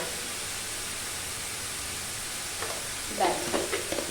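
Ridge gourd simmering in a pan with a little salt, a soft steady hiss of gentle cooking, then a few brief scrapes of a spatula stirring near the end, no talking.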